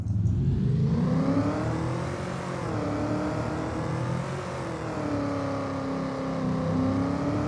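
A modded car engine in Farming Simulator 25 drones and revs steadily with a throaty, whiny tone, its pitch rising and falling in smooth sweeps, loud and continuous throughout.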